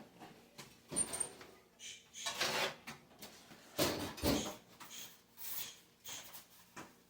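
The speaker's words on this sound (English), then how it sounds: "I'm going to get a pan." Baking pan pulled out in a home kitchen with the oven preheating for frozen onion rings: a series of close clattering metal and wooden knocks, rattles and scrapes, fairly loud bursts spread across several seconds.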